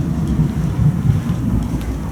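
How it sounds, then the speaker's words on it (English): Muffled thunder rolling outside a hotel room at a mountain lodge in Pigeon Forge, Tennessee, a continuous low rumble that carries on steadily for about two seconds, with no one speaking. "Got a little thunder going outside."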